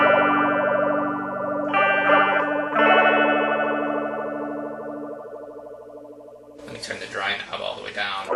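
A Blue Dinosaur Interstellar Watermelon filter pedal with its modulation speed turned up fast. A sustained, buzzy harmonic tone shifts in timbre and then breaks into a bright, rapidly warbling, noisy swirl near the end.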